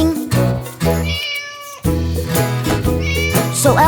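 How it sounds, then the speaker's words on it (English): A cartoon cat sings in a sustained, melodic meowing voice over a busy children's nursery-rhyme music backing, loud and up front throughout. "As Alfie the cat started to sing"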